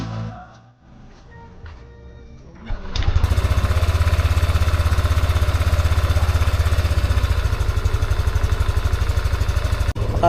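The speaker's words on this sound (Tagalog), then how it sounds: "nakaandar na yung motor natin." A Yamaha Aerox V3 scooter engine starts up after a few quiet seconds of faint rattling, then settles into a loud, close, steady idle with an even putter that runs to the end.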